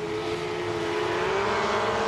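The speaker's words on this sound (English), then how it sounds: "It almost sounds like a NASCAR race because they're running a Pontiac and a Buick heads that really have that high whine" Swamp buggy race engines, inline six-cylinder or V6 with Pontiac and Buick heads, give a steady high-pitched whine that drones continuously at a distance, like a distant car race, with no voices.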